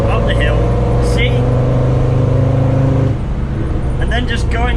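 A Land Rover Defender Td5 diesel engine pulls uphill with a deep, steady growling drone from inside the vehicle, easing off slightly partway through, with some voice-like sound over it.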